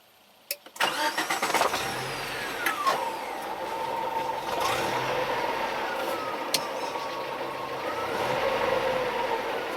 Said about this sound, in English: Got a noisy throwout bearing